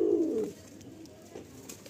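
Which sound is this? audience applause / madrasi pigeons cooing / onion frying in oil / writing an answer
madrasi pigeons cooing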